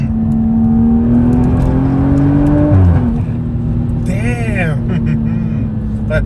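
A 2022 BMW M135i hot hatch engine accelerates hard, its note climbing steadily to a gear change and then pulling again, heard close from inside the car while someone talks over it.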